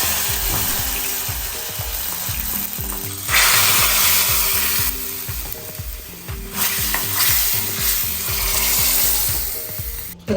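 Mustard seeds and fenugreek sizzling in hot oil in a pan while preparing sambar, a loud steady crackling fry with a few bursts of brighter hiss, alone, with no voices.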